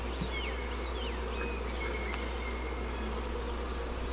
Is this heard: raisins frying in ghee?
no